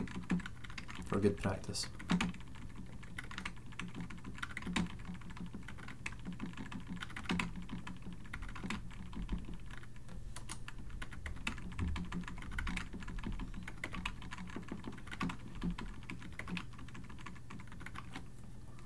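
Code being typed on a computer keyboard for a Roblox Lua scripting project, a steady run of close, quick key clicks with irregular louder taps, while a voice speaks briefly.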